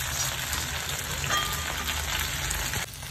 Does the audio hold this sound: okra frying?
yes